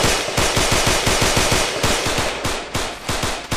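Rapid, loud automatic gunfire from an M107 .50 calibre rifle in ARMA 2 DayZ, a steady stream of evenly spaced shots rattling close and continuously without a break.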